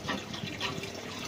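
Homemade 3D-printed brushless water pump running and pumping water, a steady broadband rush of flowing liquid with motor hum, close and continuous, with no talk.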